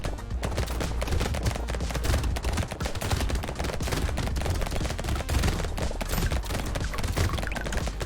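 Relentless SMG fire in the Brotato video game, a dense, rapid stream of shots layered with impact clatter, loud and unbroken throughout.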